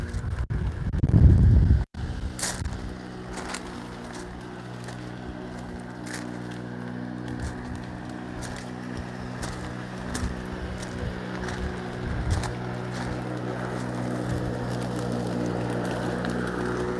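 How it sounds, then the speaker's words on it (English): A lawnmower engine drones steadily in the background, a low continuous hum with some rustling and wind, no voices over it. "for the noise of the lawnmower."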